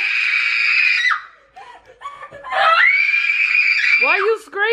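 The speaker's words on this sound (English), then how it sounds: "Why are you screaming?" A young child screams in long, piercing, high-pitched shrieks indoors, breaking off briefly into whimpers before a second sustained scream and a few sharp rising cries at the end.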